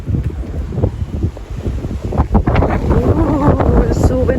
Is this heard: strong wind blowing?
yes